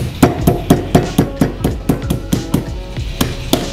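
A big kitchen knife's dull back repeatedly pounds a pork cutlet thin for tonkatsu, a steady run of about fourteen close, sharp thuds at a quick, even rhythm with no talking.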